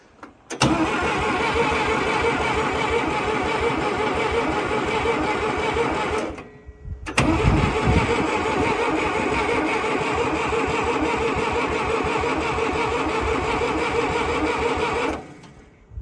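Massey Ferguson 180LP tractor engine, sitting unrun for 35 years, cranking and catching into a loud, steady rapid chugging that runs for about six seconds, breaks off briefly, then restarts and holds a continuous rough idle.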